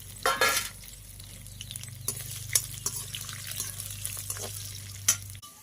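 Cumin seeds and dried red chillies frying in hot oil in a home kitchen, a soft crackling sizzle under a low steady hum, with a few sharp clinks of a utensil against the pan and a brief splash early on.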